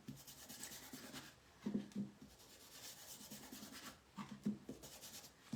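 Vaseline being rubbed by hand over a painted base coat on a rustic wooden heart, a soft, steady rasping rub with a few louder scrubbing strokes, close and alone.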